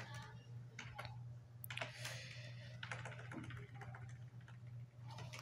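Typing C++ code on a computer keyboard: quiet, close clusters of rapid key clicks with short pauses over a low steady hum.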